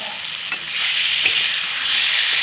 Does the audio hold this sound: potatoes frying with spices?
yes